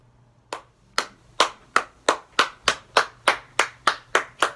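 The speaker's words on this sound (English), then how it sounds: "Round of applause, everybody." Round of applause on a show set: a single pair of hands clapping in a steady, evenly spaced rhythm, about a dozen sharp claps, close and fairly quiet with no talk.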